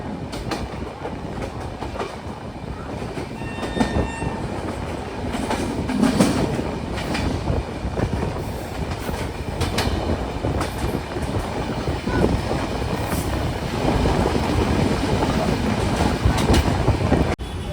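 A fast express train, the Kanchankanya Express from Sealdah to Siliguri, rumbles along the rails with rhythmic clickety-clack of wheels over joints, steady and loud, heard from on board.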